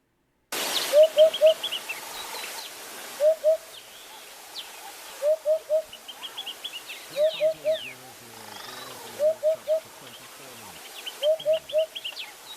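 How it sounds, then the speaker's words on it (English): Hoopoe calling in a South African setting: a clear repeated 'hoop-hoop-hoop' of three soft hollow notes, delivered in regular bursts every couple of seconds, fairly near, with faint other birds and some background rustle. "They sound like it's called Hoopoe because their call sounds like Hoopoe."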